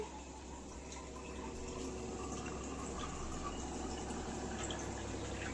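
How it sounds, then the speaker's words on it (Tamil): Water poured from a vessel into a cooking pot while making plain biryani, a steady rushing splash that runs without a break, moderately close and alone with no voices. "தண்ணி ஊற்றி நல்லா கொதிக்க வைக்கணும்"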